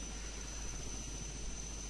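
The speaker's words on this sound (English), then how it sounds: "in typical Resident Evil fashion, we leave in a helicopter." A helicopter from the Resident Evil Remake video game gives a steady, low, muffled rotor drone, faint and unchanging, with no talking over it.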